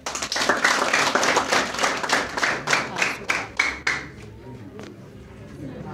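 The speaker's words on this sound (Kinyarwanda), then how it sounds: "abaha amashyi" Guests at a Rwandan civil wedding ceremony break into applause after the vows: a burst of sharp, separate claps that comes fast at first, then thins to a few scattered claps and fades by the fourth second.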